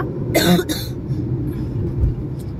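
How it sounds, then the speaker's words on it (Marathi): A couple of harsh, close coughs in quick succession, followed by traffic rumble and road noise inside a moving vehicle. "हे बघ, मला पण खोकला चालू झाला."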